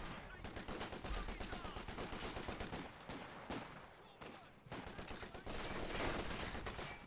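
A Bren light machine gun squad of British infantry fires sustained, rapid bursts at a Grenadier squad in Company of Heroes 2, with a dense crackle of battlefield gunfire continuing throughout and a voice talking faintly underneath.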